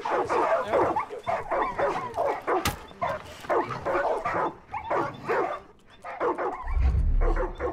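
Far Cry 5 video game dogs keep up a steady, loud barrage of barks and yips, close by and overlapping, with a brief sharp click and a low rumble near the end.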